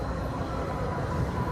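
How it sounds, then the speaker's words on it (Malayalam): A train rolls past at Veli Tourist Village in Thiruvananthapuram, a steady, dense rumble that holds evenly throughout without a break. "അപ്പോൾ അതൊരു ട്രെയിൻ പോകുന്നുണ്ട്."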